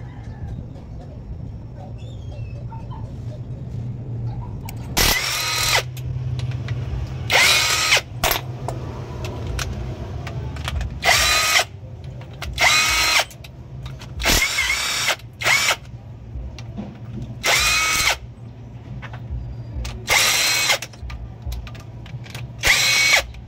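A cordless impact wrench on a freshly charged battery fires in about nine short, loud, separate bursts of hammering whir. Quiet gaps with faint background noise fall between the bursts.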